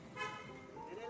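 A car horn toots briefly on a road as a vehicle approaches, its tone mixed with nearby talking and light traffic noise.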